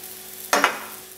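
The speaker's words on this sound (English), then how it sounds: "And now we're only going to cook it for 15 to 20 seconds until golden dots appear on the other side" A buckwheat crêpe hitting a hot pan as it is flipped, one short bright sizzle with a quick double onset that fades fast.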